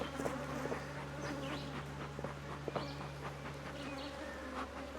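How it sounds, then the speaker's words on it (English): Honeybees buzzing around a hive, a dense, steady drone close by with individual bees whining past, plus a low constant hum and a few soft knocks. "There's quite a few bees on me, guard bees on me"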